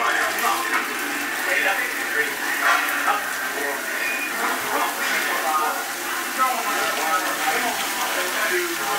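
Two British turkey burgers frying in a pan over low heat give a steady, soft sizzle and crackle throughout, with someone talking over it.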